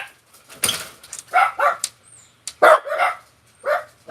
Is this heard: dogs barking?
yes